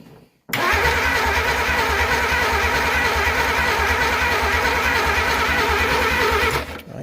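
A 1947 Plymouth Special engine cranks steadily without catching, a loud, close, rhythmic churning of the starter that runs for about six seconds before cutting off.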